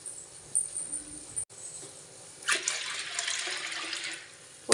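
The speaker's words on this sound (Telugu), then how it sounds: "దానికి సరిపోయమైన నీళ్ళు" Water poured over cleaned horse gram in a pot, starting after a quiet pause as a close, steady splashing stream that runs to the end.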